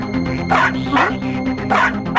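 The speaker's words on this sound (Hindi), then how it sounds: "ये एक टाइम पे 6 बार भौंकता है और उसके बाद बैठ जाता है।" A toy dog yaps in a few short, evenly spaced barks, loud and close, over a steady humming background. The setting is a children's fantasy drama.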